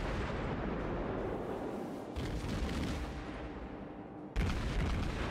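Naval artillery booms during a World of Warships battle: a dense, loud, continuous roar of heavy gunfire and explosions that cuts out briefly and then slams back in louder, with no speech.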